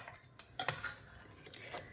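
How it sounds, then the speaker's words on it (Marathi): A spoon stirs salt into dal inside a pressure cooker, giving a few quick metallic clinks and scrapes against the pot, soft and close with no speech. "त्यामध्ये आपल्याला चवीनुसार मीठ घालून हटवून घ्यायचे आहे"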